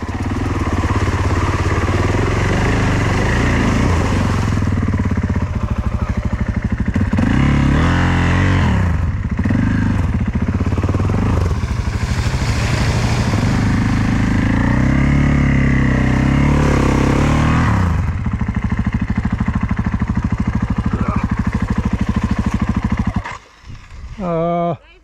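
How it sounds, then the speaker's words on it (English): A two-stroke motorcycle ridden on an adventure trail around the Sea of Galilee gives a loud, continuous engine drone that swells and dips with throttle, close up, with people talking over it before it cuts out near the end. "Right here, I'm going to try and help her out by riding her bike"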